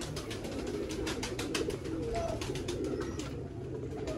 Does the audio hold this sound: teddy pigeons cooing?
yes